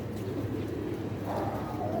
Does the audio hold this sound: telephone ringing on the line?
no